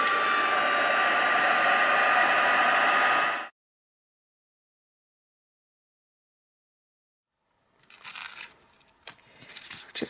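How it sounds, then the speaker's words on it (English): A craft heat tool blows steadily and loudly for about three and a half seconds, melting embossing powder on a glittery card, then cuts off into silence before faint handling rustles and clicks follow. "Bring my heat tool in."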